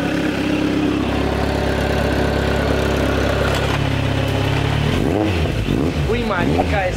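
A motorcycle engine with an aftermarket exhaust holds a loud, steady idle, then revs repeatedly in rising and falling surges. It sounds close and dominant throughout.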